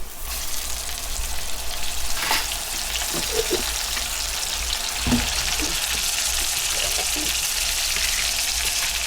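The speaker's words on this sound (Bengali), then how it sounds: "এখন আমি চার চামচের এক চামচ রসুন দেব এই তেলের মধ্যে" Garlic frying in hot oil in a pan while cooking snakehead fish dopiaza, a steady close sizzle with occasional sharper crackles and a few clinks throughout.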